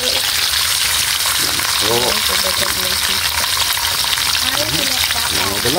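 Pork bones and meat are stirred in a hot pan for pork kaldereta, a loud continuous sizzle with scraping and clattering from the stirring, while someone speaks briefly over it.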